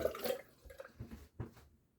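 Water splashes and drips during a wash-up before shaving with a brush, a few close, uneven bursts of running and dripping water that fade toward silence at the end.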